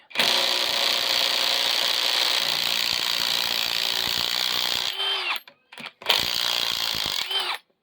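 An Einhell impact wrench unscrews a nut with a loud, continuous rattling hammer for about five seconds, stops briefly, then fires another short burst before falling quiet.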